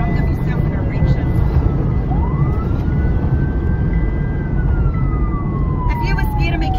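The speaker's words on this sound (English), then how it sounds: "you put your siren on" A siren wails slowly up and down over loud, rumbling road noise, a single rising then falling tone that sounds somewhat distant.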